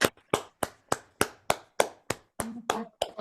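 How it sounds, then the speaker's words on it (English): Clapping from online meeting participants comes through as about a dozen sharp, evenly spaced claps, close and distinct, with a brief murmur of voice near the end. "They're applauding you."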